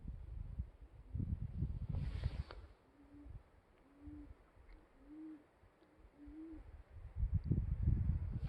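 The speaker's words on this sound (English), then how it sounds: "There's pigeons in that cave. I want you to hear them cooing." Soft, low pigeon cooing calls from a cave at Devils Tower repeat four times at a steady pace, fairly faint, between louder gusts of wind-like rumble.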